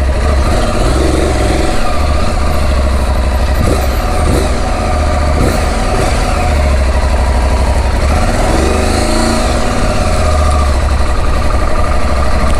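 Motorcycle engine running steadily at idle, a loud continuous rumble with a few brief blips of revving, heard up close with no talking.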